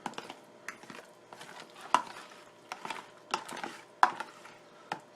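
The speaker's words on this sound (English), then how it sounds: "give it a little bit of a stir" Egg salad being stirred and mashed in a bowl, with soft scraping and irregular clicks of a utensil against the dish, several sharper taps standing out over five seconds, close and fairly quiet.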